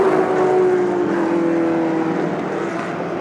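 Shelby race car at full throttle climbing a hill at a speed festival, a loud sustained engine drone with a steady held pitch that slowly rises and falls, continuous and close, with no talking.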